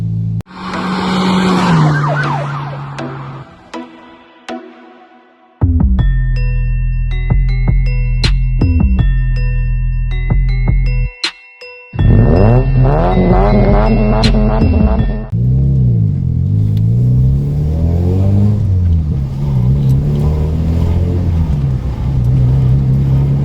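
A Toyota Yaris engine hums and shifts through gears on the road, loud and close inside the car, with the drone stepping up and down in pitch and a few sharp clicks.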